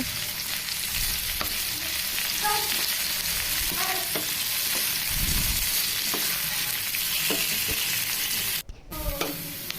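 Onions sauté with ginger and garlic in a hot pan for tomato chutney, giving a steady, close sizzle throughout. Scattered clinks and scrapes from stirring rise over it, followed by a brief clatter near the end.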